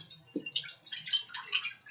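Organic chicken broth poured into a pot for chicken noodle soup, a quiet, steady liquid splashing and trickling that lasts about two seconds, with no talking.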